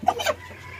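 A Brahma chicken gives a brief, close cluck, a couple of quick throaty notes that fade out within a second.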